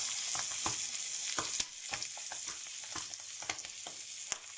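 Poultry browning skin-side down in oil and butter over moderate heat, a gentle constant sizzle with scattered crackles and pops, moderately quiet and close.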